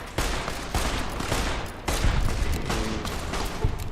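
Rapid gunfire bursts from the video game Fallout New Vegas, a dense stream of sharp shots in several volleys with brief gaps between them.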